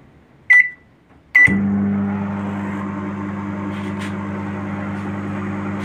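A microwave oven gives two short beeps, then starts up and runs with a steady low hum and whir, close and continuous, with no talk.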